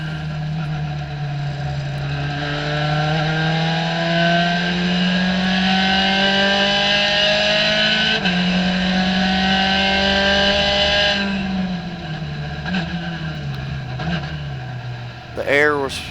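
A Gen 3 Spec Racer Ford race car at Hallett Motor Racing Circuit drones loudly and steadily from inside the car, its engine pitch rising and falling with gear changes, then dropping off as it slows, with brief tyre chirps near the end.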